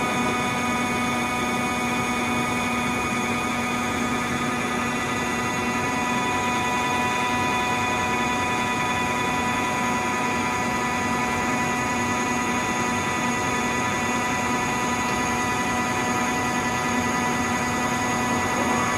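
A Cincinnati Vercipower horizontal milling machine hums with a steady, loud mechanical drone and tonal whine as its spindle changes speed toward 1080 RPM, unbroken for the whole stretch with no voices.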